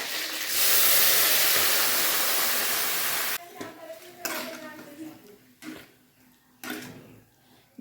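Mustard seeds and curry leaves hit hot oil with a loud, steady sizzle for a few seconds, then sambar is poured in, followed by quieter scattered pops and clinks of a pan and spoon.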